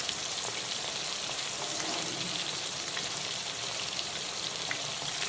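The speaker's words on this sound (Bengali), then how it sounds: "শঙ্কর মাছের একটা দিক কিন্তু ভাজা হয়ে গেছে তো আমি মাছগুলোকে উল্টো করে দিচ্ছি" Pieces of shankar (stingray) fish fry in a pan over medium to high flame, giving a dense, even hiss with faint scattered pops and no voices.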